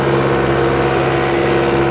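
A tractor engine runs steadily close by, a loud, even mechanical drone with a low hum and no change in pace.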